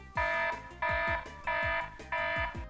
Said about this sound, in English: they've got a stock alarm